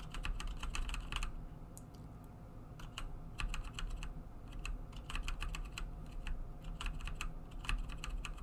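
Computer keyboard keys are pressed in quick irregular bursts of clicks, close but quiet, with short pauses between runs of taps while working on animation keyframes.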